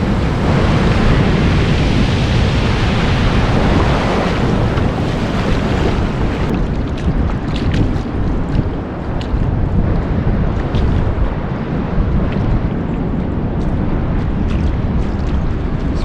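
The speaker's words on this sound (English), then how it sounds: "Here comes another wave. Oh, this will be a good one." Ocean waves break and wash up a beach on the Oregon coast, a loud, continuous roar of surf mixed with heavy wind buffeting the microphone, with no voices.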